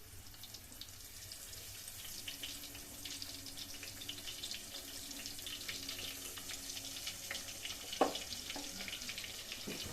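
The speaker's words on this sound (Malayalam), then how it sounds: "നല്ല തിളച്ച എണ്ണയിൽ കിടന്ന് മീനൊക്കെ വേവുന്നുണ്ട്." Fish slide into hot boiling oil in a pan and fry with a soft, steady, distant sizzle and faint bubbling, plus one brief clink of a utensil.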